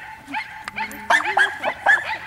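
A corgi on a sheep-herding outing gives a few short, close yips and barks in an irregular burst, with some whimpering tones and possible human voice mixed in.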